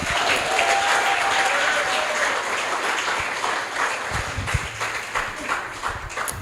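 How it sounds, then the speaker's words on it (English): A sustained round of applause from the audience at a community celebration event, crowded clapping that stays loud and even before slowly thinning toward the end. "Give them another round of applause, guys."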